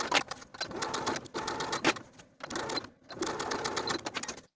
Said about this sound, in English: Now I'm going to sew the binding in place all the way around the bottoms of both sleeves with a 1/4 inch seam allowance.